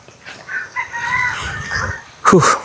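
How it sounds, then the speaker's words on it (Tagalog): A native chicken rooster crows once, fairly close, its call rising into a loud, strained ending. "tunog ng ibon, huni ng manok ang maririnig mo dito"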